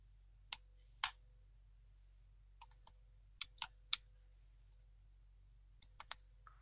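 Typing on a computer keyboard in a quiet room: a dozen or so sparse, crisp key clicks arriving in small irregular clusters over a low steady hum, with no talking.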